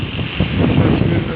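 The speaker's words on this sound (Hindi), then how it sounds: "अब ये हवा जो चल रही है" Strong wind blows steadily across an open outdoor spot during a heat wave, a loud rushing roar buffeting close against the microphone for the whole moment, with no clear voice over it.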